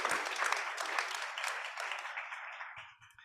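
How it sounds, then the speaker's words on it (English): An audience gives a round of applause for a guest photographer, with loud, dense clapping that gradually thins and fades over about three seconds. "Can you give me a round of applause?"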